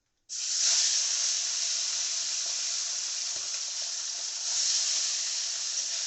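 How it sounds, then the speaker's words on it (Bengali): Tangra fish hits hot oil in a wok with a sudden loud sizzle that holds steady and bright, a dense continuous frying hiss with no talking. "এবার আমি এই তেলের মধ্যে দিয়ে দেব ট্যাংরা মাছ।"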